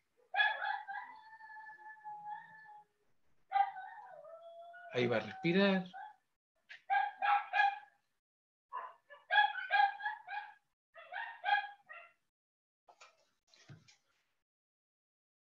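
A small pet dog whimpers and gives short yips and barks in separate bursts, nearby and fairly quiet, with a person speaking briefly.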